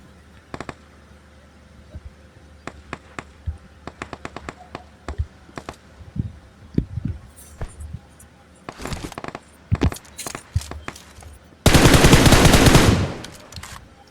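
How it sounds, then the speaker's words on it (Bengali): Gunfire in PUBG heard from far off: scattered sharp single shots and short bursts, then a loud, dense sustained volley near the end, with no talking. "কে যেন অনেক দূর থেকে ফায়ার দিছে"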